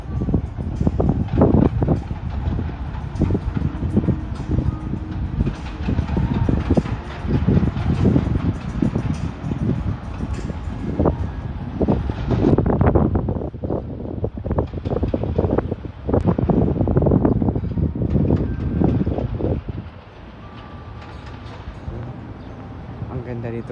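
Strong wind gusts buffet the microphone on the open rooftop of SM Mall of Asia, a loud, continuous rumble that eases near the end while people talk throughout.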